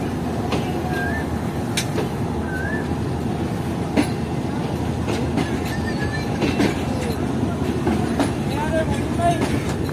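The restored Shalimar Express passenger train runs on rails from Karachi. Its wheels give a steady, loud rumble with rhythmic clickety-clack over rail joints and brief squeals, with faint voices underneath.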